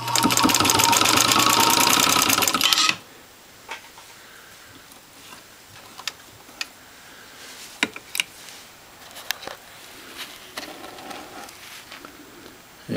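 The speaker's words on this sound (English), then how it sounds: "This is the Singer 66, set up with number 69 nylon thread, which is upholstery thread. Sewing about 4 layers of nylon." A 1922 Singer 66 cast iron motorized sewing machine with all-metal gears, sewing four layers of nylon with heavy upholstery thread, runs in a loud rapid rhythmic burst for about three seconds, then scattered faint clicks and handling sounds.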